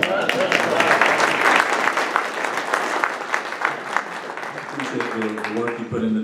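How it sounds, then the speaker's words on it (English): Audience at a Rotary club meeting breaks into sustained, dense applause, steady and loud across the room, with a few voices chatting underneath as the clapping thins toward the end. "Round of applause."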